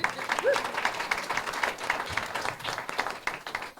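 A crowd claps for the sponsors at a venture capital panel event, sustained applause from many hands with some voices mixed in, loud and continuous throughout.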